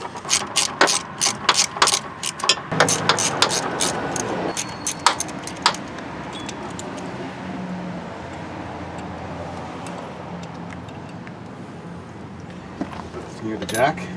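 A 1/4 inch ratchet works on an A/C compressor bolt on a 2011 Hyundai Elantra Touring, with rapid clicking pawl bursts up close at first, then quieter mechanical rattles and faint clinks.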